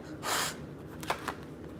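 Several decks of tarot-style cards being shuffled close by during a live stream, a soft riffling burst followed by a few quieter flicks and taps against a low room hum.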